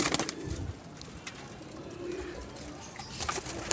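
Soft cooing of Teddy Golden high-flying pigeons in a breeding setup, low murmuring calls close by over a hissy background, with no voices.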